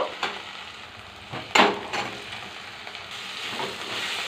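Potato pieces go into a pan for a potato and brinjal curry and start frying: a soft sizzle with a few stirring scrapes and a louder burst as they land, close and fairly quiet.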